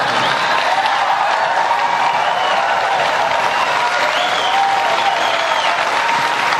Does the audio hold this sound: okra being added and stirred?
no